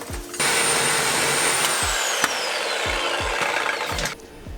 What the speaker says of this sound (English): So now I've got to sawzall it apart and basically ruin this exhaust